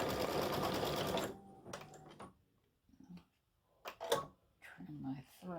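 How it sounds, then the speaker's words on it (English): An embroidery machine stitches a gnome's nose in an appliqued St Patrick's Day gnome design, a steady loud mechanical whir for the first second, then stopping, followed by a few soft clicks and thumps. "So now it's going to stitch out his little nose."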